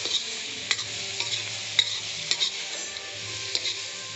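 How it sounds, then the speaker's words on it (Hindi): Tomatoes and spices frying in a pan for a dry potato sabzi, stirred with a spoon that scrapes and taps in repeated strokes over a steady close sizzle; no one speaks. "इसमें डालेंगे टमाटर, टमाटर डाल के चलाएंगे"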